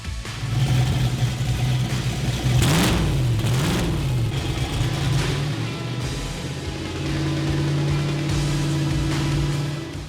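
A twin-turbo LS engine in a C10 pre-runner truck revs hard on a dyno, a loud sustained roar with the pitch swinging up and down before settling into a steady high drone.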